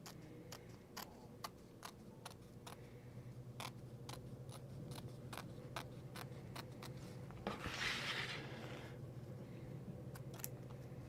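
Small scissors snipping embroidery thread in a quiet room, a long series of crisp, faint clicks at an uneven but steady pace, with a brief rustle partway through.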